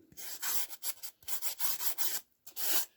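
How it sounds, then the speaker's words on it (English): Sanding down pieces of a tabletop wargame model bunker by hand, a close, dry rasping rubbed in a rhythmic series of short strokes with brief gaps between them. "Had to sand that down. Use your finger. Just rub it."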